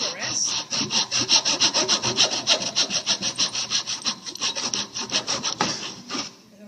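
A hand saw cuts a groove in wood for a joint with quick, even back-and-forth rasping strokes, roughly three per second, close and loud, slowing and stopping at the end.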